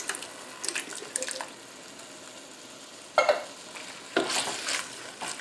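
Meatball and tomato sauce being stirred in a pan, with a soft simmering background broken by a few scraping, sloshing stir strokes, the loudest near the end, and no voices.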